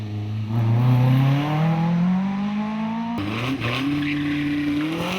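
Ralph Pinder's racing car climbing the Loton Park speed hillclimb, its engine close and loud, rising steadily in pitch under hard acceleration before a sharp gear change and another climb.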